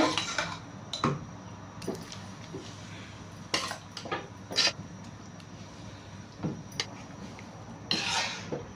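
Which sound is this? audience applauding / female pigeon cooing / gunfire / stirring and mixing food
stirring and mixing food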